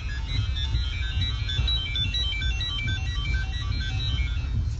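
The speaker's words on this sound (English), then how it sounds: "We're not going to answer the phone right now." A telephone rings with a steady repeating electronic tone, loud and close, during Hurricane Harvey's Category 4 landfall in Texas, with no voices present.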